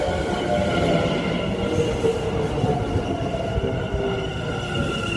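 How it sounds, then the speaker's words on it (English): Steady rumble of a sprinter train in motion, with a constant low roar and faint rhythmic rail clatter continuing throughout, heard from inside the carriage. "It's going to be a really long trip on a sprinter train."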